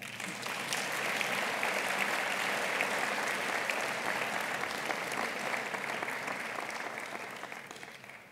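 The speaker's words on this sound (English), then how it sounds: "Go ahead and clap." An audience at a college forum claps continuously, a broad wash of many hands at moderate loudness that swells in and tapers off at the end, no voices over it.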